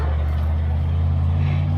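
Race cars, a silver truck and a Kia, roar in a steady low drone on the back stretch of the M-40 Speedway during a night of destruction event, heard from a distance.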